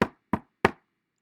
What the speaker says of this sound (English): Each time someone knocked